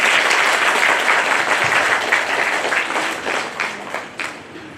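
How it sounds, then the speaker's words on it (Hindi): A church congregation at a Carmelite nun's final profession ceremony applauds steadily and loudly, a dense wash of many hands clapping that gradually thins toward the end. "हम लोग जोरदार ताली बजा देंगे।"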